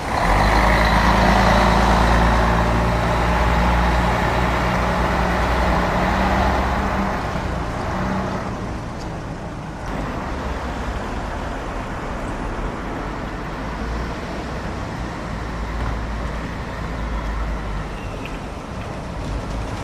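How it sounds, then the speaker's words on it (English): Comfy Bus MX53FDF pulls away from a stop in 2006, its loud diesel engine roar fading after several seconds into steady roadside traffic noise. "And off goes Comfy Bus MX53FDF."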